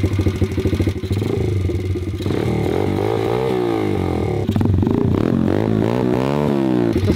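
A dirt bike engine fires up and runs loud and close with a rough, clattering idle, then revs up and down in repeated rising bursts toward the end, with no voices.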